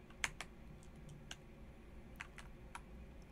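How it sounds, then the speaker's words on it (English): Single keys pressed on a computer keyboard during horror gameplay, a handful of sharp, separate clicks spaced irregularly over a faint steady background hum. "I am pressing E on my keyboard."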